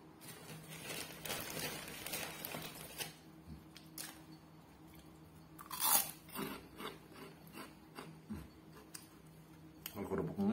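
Long kerupuk crackers served with Betawi-style gado gado being crunched and chewed up close, with irregular crisp bites and chewing over a faint background hum and a few soft taps.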